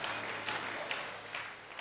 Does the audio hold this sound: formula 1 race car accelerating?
no